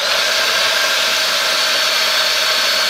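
A Roborock H6 cordless stick vacuum runs on low mode while picking up small nuts, a steady, close, loud airy whir with no talk.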